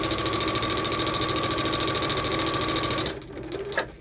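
A sewing machine fitted with a walking foot runs a quilt seam with a fast, steady rhythmic chatter for about three seconds. It then stops, leaving a few soft handling clicks.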